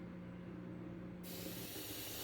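Water spraying onto removed computer keyboard keys in a bath, a broad hiss that switches on after about a second of low hum and then runs steadily to the end.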